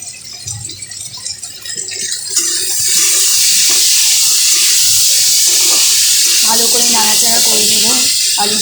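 Potatoes frying in a pan with turmeric, starting with quieter kitchen clatter before a loud, steady sizzle surges in and holds close; a voice speaks briefly over it.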